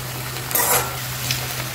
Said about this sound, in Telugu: కొంచెం ఒక 2 స్పూన్ల నూనె ఎక్కువ వేసి వేయించుకోండి, లేకపోతే బాండీకి అతుక్కుపోతుంది గోంగూర